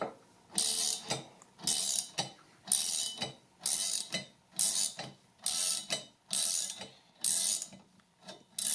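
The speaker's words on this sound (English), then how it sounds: "you may need to extend your puller a little bit. And then tighten down, and it'll come right off." A puller is tightened to remove a Thunderbolt Model 2 chopper from its armature, with about eight regular bursts of close, loud ratcheting and grinding metal clicks separated by short pauses.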